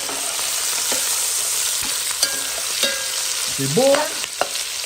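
Onions fry and sizzle loudly in a pan while being stirred, a constant bright crackle broken by scraping utensil strokes, with a brief spoken word over it.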